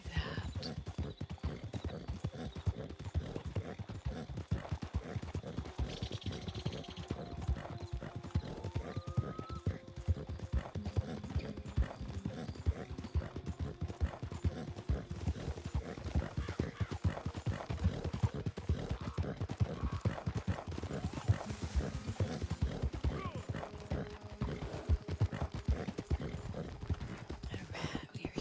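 Horse hooves clip-clop steadily through Red Dead Redemption 2 as the horse moves around a house and into muck, a continuous close rhythm running the whole time with a faint voice at times.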